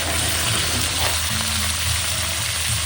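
Meat sautéing in a pan for sotanghon, a loud, dense, continuous sizzle close by, steady throughout with a low rumbling undertone and no talking.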